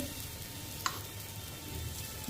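Bengali bread chop roasting on a flat pan without oil: a steady, faint hiss of sizzling with one small sharp pop partway through and no other noises.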